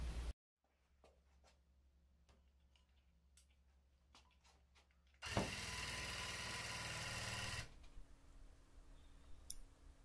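A tufting gun stitches straight lines into cloth: faint irregular clicks and ticks at first, then a loud steady mechanical buzz runs for a couple of seconds before cutting off, leaving a low hum and a few light clicks.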